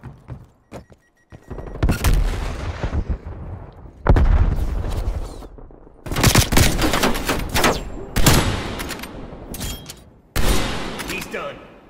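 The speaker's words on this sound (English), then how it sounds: "So yeah, look at this sniper clip." Sniper rifle fire in a first-person shooter video game: several loud, booming shots with long echoing tails, spaced a second or two apart, with a voice talking between them.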